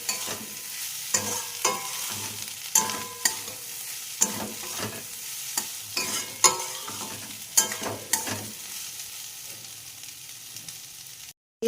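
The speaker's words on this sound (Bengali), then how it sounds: "সমস্ত কিছুকে ভালো করে একসাথে" Maggi noodles stir-frying in a pan with egg, chicken and prawns: a steady close sizzle broken by repeated sharp scrapes and clatters of the spatula about once a second.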